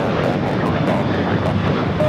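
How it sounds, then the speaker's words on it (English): United Airlines Boeing 737-800 taking off from LAX bound for San Francisco, a loud, steady jet roar that holds constant throughout with no voices. "This is United Airlines 276 taking off to San Francisco on a 737-800."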